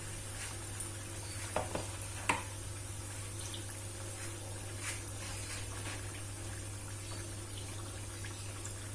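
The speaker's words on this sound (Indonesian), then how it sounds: "Kita goreng lagi bakwan." Bakwan vegetable fritters frying in hot oil in a Minang home kitchen, giving a constant soft sizzling hiss with a few light clinks of stirring, quiet and unbroken throughout.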